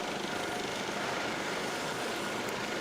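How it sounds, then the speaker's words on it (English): Twin Turbomeca Arriel 2C2-CG turboshaft engines of a Eurocopter HH-65 Dolphin spooling up in a flight simulator game, a steady broadband turbine roar with a faint high whine, loud and continuous throughout without any talking. "So that's firing up our two Turbo Mecha Ariel 2C2-CG turboshaft engines"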